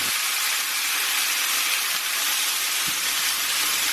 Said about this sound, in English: Now we're going to add some rice wine, making sure to add it to the sides of the pan.